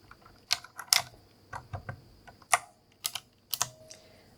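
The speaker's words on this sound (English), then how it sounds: "The green are definitely similar. They're both a clicky switch." A Razer keyboard with clicky green switches is typed on slowly and unevenly, with sharp, close individual key clicks and clacks separated by short pauses.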